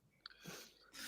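A quick, faint sneeze during a casual livestream, a short nasal burst followed by a breathy exhale, heard alone without talk.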